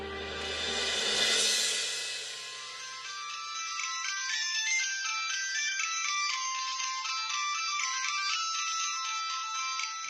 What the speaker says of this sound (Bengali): ফোনটা বাজছে, ধর না।